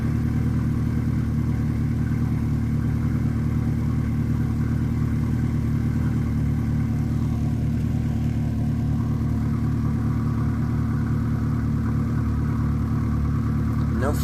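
A 2010 car engine idles steadily after a cold start, a low continuous drone with a faint periodic tick that holds for the whole stretch, close and even, with no voices.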